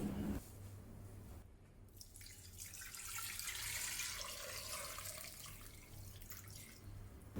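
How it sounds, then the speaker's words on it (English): Tap water runs into a container holding seitan dough, a steady faint gush with a brightening pour as the level rises, alone without talk. "Place the dough in a container and fill with water just sufficient to submerge the dough."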